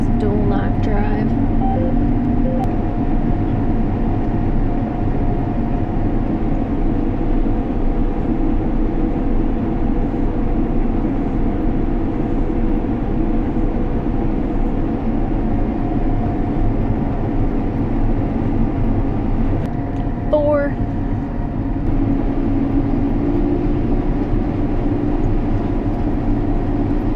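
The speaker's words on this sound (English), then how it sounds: "Sickle is just chattering. It does not like it." A combine harvester's sickle chatters in the crop amid a continuous loud machine drone, a rough steady roar throughout, with a brief rattling flurry near the end.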